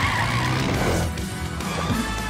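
A red quad bike starts up in a German children's audio drama, its engine revving loud and close for a couple of seconds with a brief screech, no voices.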